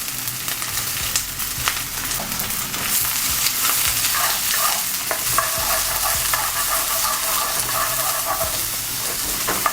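Peppers and onions sautéing in oil in a pan over medium-high heat, giving a steady, loud broadband sizzle with occasional stirring scrapes for about ten seconds, no talking.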